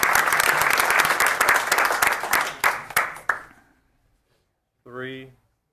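Applause for a student being honored at a board of education meeting: dense, loud clapping that thins into a few scattered claps and fades to silence, followed by a brief spoken phrase.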